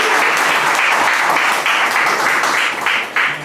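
Steady, loud applause from an audience at a college award ceremony, dense clapping sustained throughout with no talk over it.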